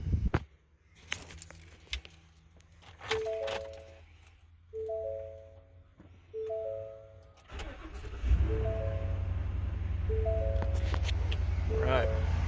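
Keys jangle and a chime dings repeatedly, then the 7.3 engine of a 2021 Ford F-250 4x4 pickup cranks and roars to life, settling into a steady loud rumble; a voice speaks briefly.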